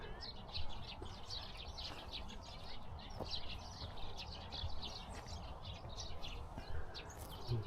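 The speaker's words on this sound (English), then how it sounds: "Happy birds." Many birds, including sparrows, chirp and tweet steadily on a low forest hill pass near Cheonan, a dense overlapping chorus of quick high calls, fairly faint, with soft ambient noise beneath.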